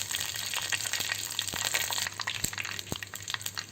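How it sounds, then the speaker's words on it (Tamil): Mustard seeds crackle and spit in hot oil as the tempering for a country chicken rasam, giving a dense, close sizzle with sharp pops scattered throughout. "கடுகு நல்லாவே பொரிய ஆரம்பிச்சிச்சு"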